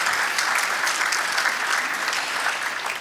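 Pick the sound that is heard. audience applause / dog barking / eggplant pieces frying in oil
audience applause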